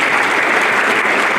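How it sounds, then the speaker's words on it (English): Dense, steady applause from a dinner audience at a high school Hall of Fame induction event, a continuous wash of many hands clapping for volunteers. "Let's give them a round of applause."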